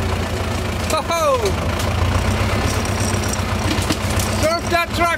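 A tractor engine runs steadily at close range throughout, a continuous low idling rumble, with a voice speaking over it and short whistling bird-like chirps appearing near the start and end.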